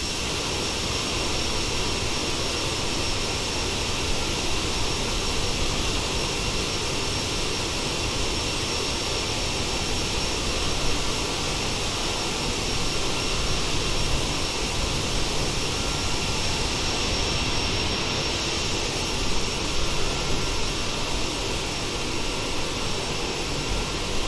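Steady, loud roar of CRJ900 jet engines during cruise between Montreal and Halifax, a constant broadband whoosh with a high whine, heard from inside the cabin with no talking.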